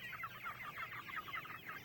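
Pasture-raised broiler chickens cluck in a busy, overlapping chorus from a small shelter holding about 70 birds, the soft calls close by and repeating steadily.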